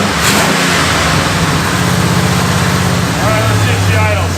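Worn-out Oldsmobile 442 V8 with a 268 cam, idling with a steady, loud low rumble and an uneven choppy lope, continuous throughout with a brief higher tone near the end.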